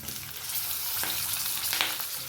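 Mutton paya masala fries in a pan until brown, giving a dense, steady sizzle with small pops and crackles and no voices.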